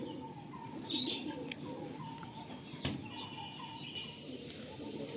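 Pigeons for sale at a bird market, with faint low cooing and soft bird calls over a steady busy outdoor background, a brief sharp knock partway through.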